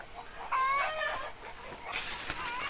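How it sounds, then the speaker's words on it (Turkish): A chicken clucks and squawks nearby in a few short bursts in an organic garden, with quiet outdoor ambience around it. "Bir taraftan tavuk sesi"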